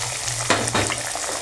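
Egg frying with vegetables in a pan, a dense close sizzle with a burst of louder spitting as the egg goes in.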